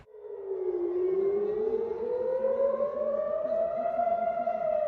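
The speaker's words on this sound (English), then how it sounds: "sirens cleared the memorial site" An air raid siren warns of rockets fired from Gaza, sounding at a memorial site in Israel. Its steady, loud wail rises slowly in pitch and holds for the whole stretch, with no voices over it.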